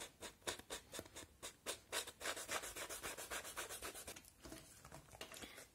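A Tim Holtz Ranger ink blending tool rubs black ink onto stone paper edges in quick, repeated, rhythmic strokes, faint and close, with no talking.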